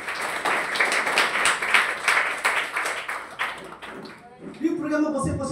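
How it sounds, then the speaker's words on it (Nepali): An audience claps together at a direct-selling seminar, dense rapid applause sustained for about four seconds, then thinning as a voice starts speaking near the end. "फेरि पनि ताली सबैले छुटे।"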